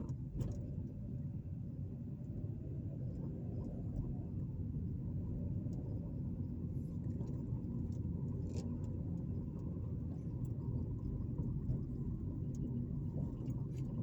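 A car cruises down a residential avenue, its interior filled with a steady low road rumble and engine hum, with faint occasional clicks and no talking.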